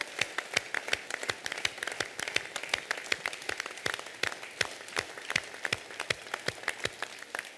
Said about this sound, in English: let's give all of these people who were involved in this a big round of applause